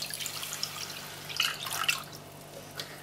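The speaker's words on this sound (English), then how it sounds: "to that we're going to add 2 cups of water" Two cups of water trickle and splash into a pan of white granulated sugar for vanilla baklava syrup, a soft, close, steady pour with a few brighter splashes, no voices.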